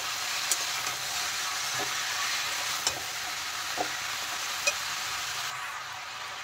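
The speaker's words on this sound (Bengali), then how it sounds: "এখন নেড়ে চেড়ে দেবো ভালোভাবে" Bottle gourd with salt and turmeric being stirred in a hot pan gives a continuous soft sizzle, broken by several sharp scrapes and clicks of the spatula spaced about a second apart, fairly quiet and without talk.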